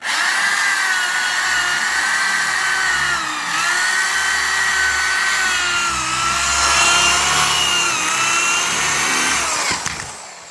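A power drill runs steadily at close range, driving a screw with a sustained whine whose pitch dips and rises, then slows to a stop at the end.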